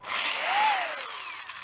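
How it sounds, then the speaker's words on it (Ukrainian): A brand-new Parkside corded variable-speed sander whirs up in a short, loud burst, its pitch rising and then easing off, heard alone without speech. "перша ось така шліфувальна машинка мережева з регулюванням обертів, повністю нова"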